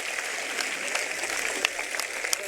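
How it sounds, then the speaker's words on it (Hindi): Crowd applause at a political rally speech in Bhadra, a dense wash of many hands clapping at moderate distance, steady and continuous with a few sharper claps poking through. "जोरदार ताली बजा के"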